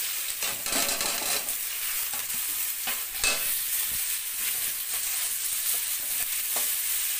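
Onions tipped into hot oil sizzle and hiss steadily for mutton curry, with occasional stirring scrapes breaking through the close, continuous frying.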